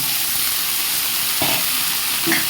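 Potatoes sizzling in hot oil in a pan, a loud steady fry with brief scraping bursts as they are stirred, no voices.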